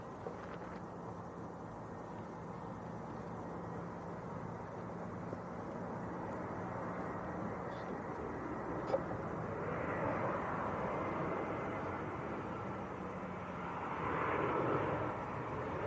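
An easyJet airliner arriving from Malaga on final approach to Manchester Airport, about half a mile out, makes a steady, moderately faint jet rumble that grows louder toward the end.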